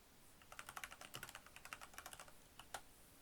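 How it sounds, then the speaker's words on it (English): Soft, quick keystrokes on a computer keyboard tap out a short title in an uneven run of clicks, faint and close in a quiet room. "type in my title"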